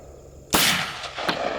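A single loud Benelli Super Black Eagle III shotgun blast fires close by outdoors, with a sharp crack followed by a short decaying boom and a faint echo.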